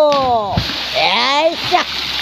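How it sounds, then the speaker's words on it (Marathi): A man jumps into water at a morning swimming spot. One sharp splash lands among excited voices talking and calling out. "पार पाणी वरती आले लांब उडून इथपर्यंत पाणी बाहेर उडून आले आहे"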